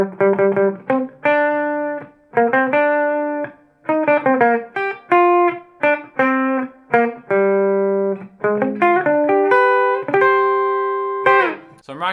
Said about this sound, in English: today we're learning the theme from the hit show The Mandalorian